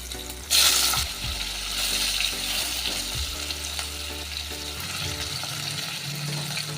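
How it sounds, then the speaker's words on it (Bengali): Mango pieces fry in hot oil with dried red chilli, five-spice and a green chilli, sizzling steadily and close. A louder hissing burst comes early, then a continuous crackle continues under occasional stirring. "আমটা এবার ভালো করে ভেজে নেব।"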